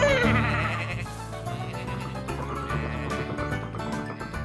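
A cartoon sheep bleats loudly at the start, followed by busy background music and faint French voices, with more bleating blended into the mix, from the children's cartoon Tracteur Tom.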